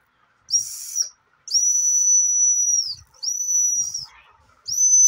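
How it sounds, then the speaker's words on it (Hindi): A butterfly-shaped toy whistle is blown in four shrill, steady tones, short then long, each breath separated by brief silence, loud and close. "देखिए बटरफ्लाई की सीटी है।"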